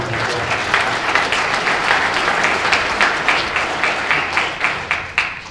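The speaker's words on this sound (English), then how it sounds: "So everyone, please help me give him a round of applause for being here." An audience at a football rules clinic for coaches and officials gives a sustained round of applause, dense steady clapping from many hands with a few louder individual claps, no talk heard.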